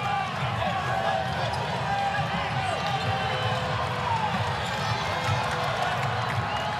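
Arena crowd noise at an ACC men's college basketball game between Lipscomb and Florida State, a steady broad roar of cheering that holds under courtside sounds and commentary throughout.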